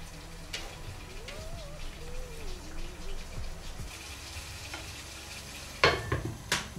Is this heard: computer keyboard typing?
no